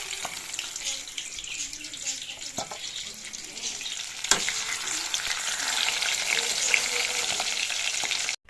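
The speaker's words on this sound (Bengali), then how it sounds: "পম্পলেট মাছ এনেছে তো সেটাই আমি ভাজা বসিয়েছি" Pomfret fish frying in a pan, a steady crackling sizzle that grows louder and denser, with a couple of sharp clinks of utensils.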